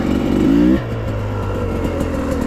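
A 2022 Sherco 250 SE Factory dirt bike revs briefly, then settles into a steady engine drone as it is ridden, close and fairly loud throughout.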